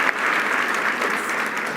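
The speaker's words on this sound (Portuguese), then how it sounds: "Aplausos!" Brief burst of audience applause, a dense, even clatter of many hands clapping at steady loudness with no speech over it.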